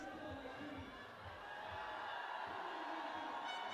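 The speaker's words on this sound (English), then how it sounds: "The crowd now spurring him on" Crowd cheering and whooping at a men's bouldering final, a broad steady roar that swells slightly as it goes on, with no talk over it.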